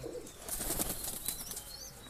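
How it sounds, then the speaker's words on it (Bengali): Saharanpuri high-flying pigeons beat their wings in a soft, fluttering burst, a continuous papery flapping that is quiet and close, with faint chirps near the end. "দেখুন পায়রাগুলো পায়রাগুলো"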